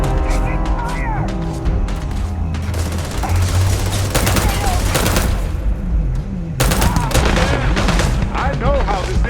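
Gunfire in Starfield on Xbox Series X, loud rapid bursts of automatic shots and sharp single cracks in quick succession, close and continuous, with a low engine-like drone underneath and voices talking over the firefight.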